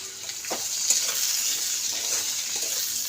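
Fish masala with cumin powder sizzles in a pan as it is sautéed, a steady bright hiss with a few soft scraping stirs, close and fairly loud.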